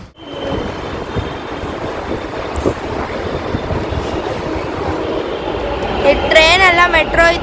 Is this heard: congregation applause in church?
no